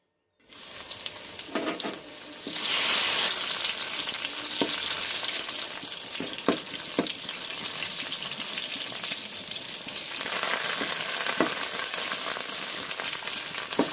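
Garlic, cumin, mustard seeds, dried red chilies and curry leaves fry in hot oil as a tempering for raw mango pulusu. A loud, close sizzle swells early, then settles into a steady crackle broken by scattered sharp spoon clicks.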